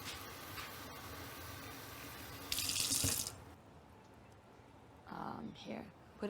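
Tap water runs steadily into a glass for an egg float test, a continuous hiss that briefly swells louder, while people talk over it and a glass clinks near the end.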